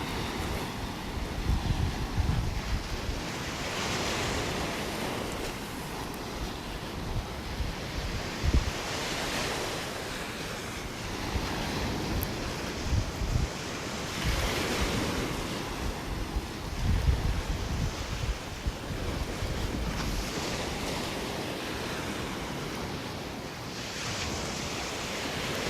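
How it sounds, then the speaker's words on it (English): Storm-whipped ocean waves wash onto a beach in North Naples, Florida, a continuous loud roar of surf with rhythmic swells, heavy wind buffeting the microphone throughout and no voices. "The storm's definitely kicking up the waves, getting a little more wave action than we've had in the past couple days."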